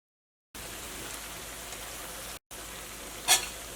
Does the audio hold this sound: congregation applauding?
no